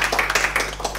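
Brief scattered clapping from a small audience at a TouchDesigner roundtable, a handful of quick claps over a steady hum.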